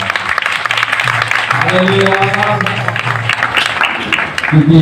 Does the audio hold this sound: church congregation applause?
yes